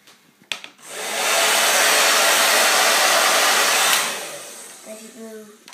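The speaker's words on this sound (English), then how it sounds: "if you blow wind on this bit" A steady rush of blown air aimed at a homemade toy wind turbine, swelling in, holding for about three seconds, then fading, with a brief voice at the end.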